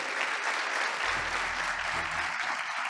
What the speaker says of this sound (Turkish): Kocaman bir alkış çok rica ediyorum onlara